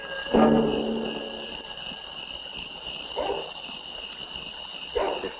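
Search dogs bark and yelp in short bursts from a distance, three separate outbursts over a constant mechanical hum, in a 1973 film.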